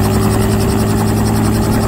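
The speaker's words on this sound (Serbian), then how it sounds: "helikopterska vožnja." A helicopter in flight during a sightseeing ride over Turčin, its engine and rotor making a loud, constant, close roar that fills the whole stretch with no talking.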